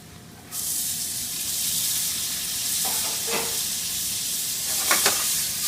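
Black beans drop into a pan with shallots and garlic and start to sauté, a sudden loud sizzle that settles into a steady close hiss with light stirring clicks.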